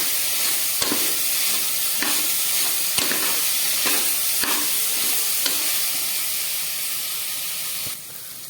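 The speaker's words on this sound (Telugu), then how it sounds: "వేసుకొని కొద్దిసేపు బాగా ఫ్రై చేసుకోవాలి" Cashews frying in a pan with onions, green chilies and carrots give a steady, loud sizzling hiss, with periodic soft scrapes of stirring roughly every second, close by.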